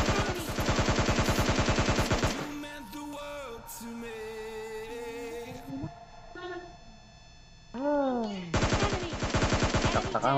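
Rapid automatic gunfire bursts in PUBG Mobile Lite open and close the passage, dense and loud, with game tones and voices talking in the quieter middle stretch.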